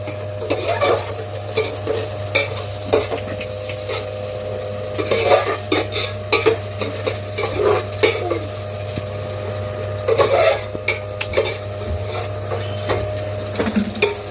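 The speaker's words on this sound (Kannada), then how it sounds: "ನೋಡಿ ಇವಾಗ ಇದು ಫ್ರೈ ಆಗಿದೆ ಮೆಣಸಿನ್ಕಾಯಿ" Green chillies frying in a pan while being cooked for pepper chicken, with a steady low sizzle beneath repeated scraping and stirring clinks of a utensil against the pan, close and fairly loud throughout.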